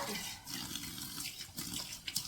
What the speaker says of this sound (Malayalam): ഇടയ്ക്ക് ഒന്ന് കഴുകട്ടെ